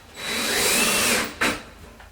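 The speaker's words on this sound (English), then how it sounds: "we will just use standard drywall screws and screw it in 3 places" A power drill whirs for about a second driving a standard drywall screw into a recessed wall shelf, close and loud, then cuts off with a short final burst.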